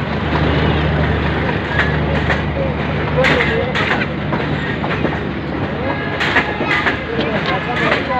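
A Pakistan Railways train led by a PHA-20 locomotive rolls past close by with a steady loud rumble and rhythmic clickety-clack of wagons, while a voice speaks over it.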